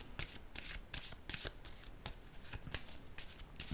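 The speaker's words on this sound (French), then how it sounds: "Je vais déposer une carte sur l'étoile." Cards handled during a tarot-style card reading, with a run of quick papery shuffling riffles and soft slaps close by, steady and dry, with no voice.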